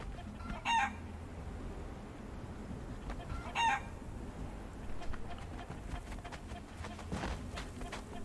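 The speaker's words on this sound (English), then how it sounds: "Luckily the sounds are not too loud on the rooster." A rooster in the video game Conan Exiles crows twice at fairly low volume, with short bursts a few seconds apart over a steady ambient background and faint clucking between them.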